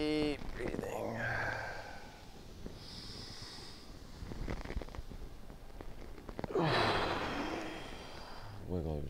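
Deep, audible breaths during an upper body yoga session with blood flow restriction bands, slow inhales and exhales with airy snorting and sighing, close to the microphone in several long cycles.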